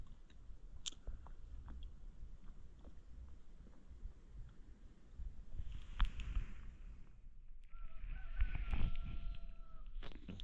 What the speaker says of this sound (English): Don't know if you can hear that rooster, it's quite funny.